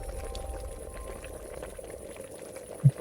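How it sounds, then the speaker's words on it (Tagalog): Oil bubbles and simmers inside a bottle, a steady low boiling burble with soft popping, continuing throughout and ending in a couple of louder knocks. "Bakit kumukulo yung langis?"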